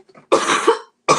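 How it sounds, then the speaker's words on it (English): A person's cough comes as one brief low throaty burst, then a loud sustained rough cough, cut off and followed by another after a short pause. The sound is close and loud, with no other talk. "I will hopefully have shifted this cough"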